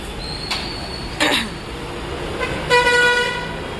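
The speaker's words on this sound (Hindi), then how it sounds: "वो इतनी आवाज़ें आती हैं गाड़ी की और इसकी और उसके क्योंकि ये रोड चलता ही रहता है" On a busy road after a night of rain, car horns toot in short bursts, three distinct honks, one a longer multi-tone blare near the end, over a steady wash of traffic.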